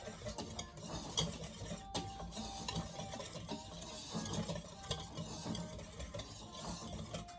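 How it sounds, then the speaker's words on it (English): Whisk stirring dry baking ingredients with salt in a bowl for a chocolate cake: soft, continuous scraping and tapping, quiet and close, with no voices. "you're just going to use your whisk and whisk those really good so they're combined really well"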